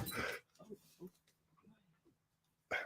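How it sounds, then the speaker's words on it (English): Dog shuffling about indoors with soft whimpers and brief snuffles, faint and close, between a few louder bursts of movement noise. "My dog's tearing the place apart."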